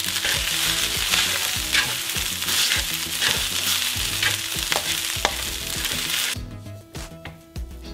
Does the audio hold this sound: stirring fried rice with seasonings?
yes